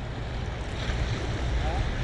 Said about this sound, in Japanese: やばい波が来たよ。